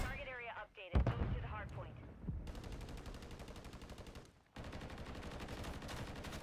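Bursts of gunfire in Call of Duty Modern Warfare 3 ranked multiplayer, rapid automatic shots filling most of the clip after a brief loud clatter, steady and fairly close, with a short gap before firing resumes.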